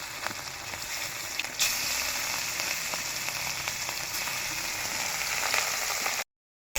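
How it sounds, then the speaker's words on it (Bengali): Rohu fish pieces coated in salt and turmeric fry in hot mustard oil with a steady, close, crackling sizzle that continues evenly before cutting off abruptly near the end. "এবারে আমি লবণ হলুদ মাখানো রুই মাছগুলো ছেড়ে দেবো গরম তেলে।"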